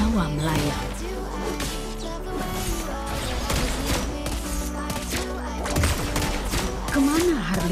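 Sniper shots from Lesley in Mobile Legends ring out amid dense game combat effects, sharp cracks and impacts layered over music and swooping tones, with a voice speaking over the action.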